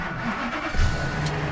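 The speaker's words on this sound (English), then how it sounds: "I'm going to fire up that old yellow truck over there" An old yellow 1967 Ford F250 crew cab truck with a weak battery cranks and fires up, a short churning start that catches into a low idling rumble.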